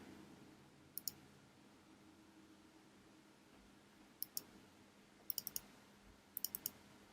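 Quiet computer mouse clicks sound close by in short bursts, single and double taps spaced several seconds apart over a faint steady room hum.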